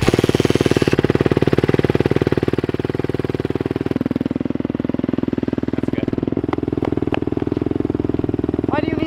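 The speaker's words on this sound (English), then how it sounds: "All right, the bike should be warmed up by now." Motorcycle engine idling as it warms up, a loud, steady, close pulsing thump that runs the whole time, with faint clatter near the end.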